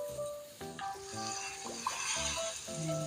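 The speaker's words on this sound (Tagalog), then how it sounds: "Kapag nag-translucent na yung ating sibuyas at bawang, ilagay na natin yung ating giniling. Pork giniling ang gamit ko." Ground pork sizzles steadily in a pan with onion and garlic, a soft bubbling fry heard over faint background music.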